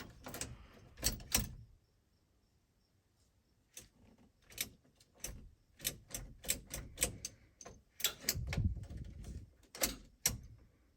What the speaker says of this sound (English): the relay that we're hearing clicking